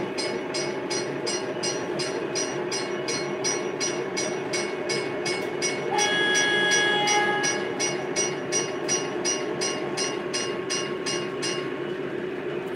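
Lionel Proto 3 model streetcar running on a toy train track, a fast steady rhythmic clicking of wheels over rail joints, close and continuous, with a brief bell-like ringing tone partway through.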